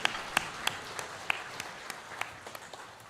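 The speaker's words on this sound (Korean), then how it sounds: "박수 올려드리겠습니다" A church congregation at a Sunday service applauds, with soft, scattered claps and a few sharper individual hits standing out over a faint, steady wash.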